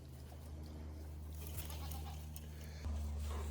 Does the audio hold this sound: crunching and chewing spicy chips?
no